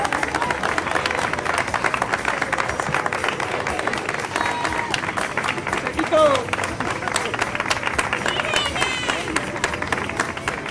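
A crowd at a marathon awards ceremony claps continuously, a dense, sustained wash of applause with some background chatter mixed in at moderate loudness.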